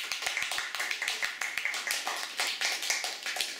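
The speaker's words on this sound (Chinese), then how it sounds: "给他勇气的掌声。" A small audience claps for a performer, a few distinct, crisp hand claps close by, starting as a quicker burst and continuing in a loose, uneven rhythm, fairly quiet overall.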